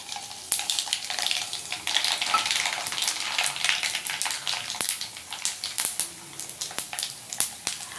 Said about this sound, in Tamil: அப்புறம் கடுகு போட்டுடலாம்.